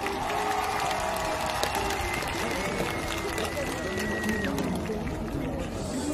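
A large crowd at an outdoor city concert applauds and cheers in a dense, continuous roar of clapping and shouting, with voices mixed through the wash.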